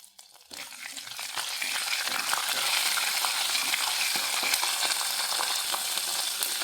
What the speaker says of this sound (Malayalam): ഇഞ്ചി വെളുത്തുള്ളി പേസ്റ്റ് കൊടുത്ത് കുറച്ച് ആവും കുറച്ചിട്ട് കൊടുക്കാവും